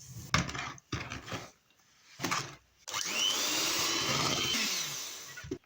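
An electric mixer whips sour cream and sugar in a bowl for a classic honey cake cream. A few short bursts come first, then the motor settles into a steady, close, whirring drone for a few seconds before stopping.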